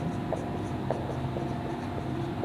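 A pen writes the working of a trigonometry maths solution, giving soft, steady scratching strokes with brief light taps, quiet and close.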